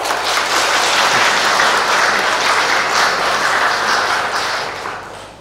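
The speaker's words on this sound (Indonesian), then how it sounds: "Tepuk tangan." Sustained, dense applause from an audience at a government ceremony handing out civil servant appointment decrees, loud and even before fading toward the end.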